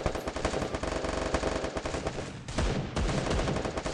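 The MP40 Cobra submachine gun in Free Fire fires rapid, dense automatic bursts, loud and close, with a short break before the stream of shots resumes.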